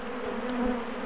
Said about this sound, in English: Why have I got so many bees in my trousers?